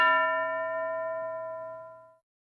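A single classroom bell strikes once with a bright metallic ding, then rings on in a clear, sustained tone that slowly fades over about two seconds, heard alone with no talk.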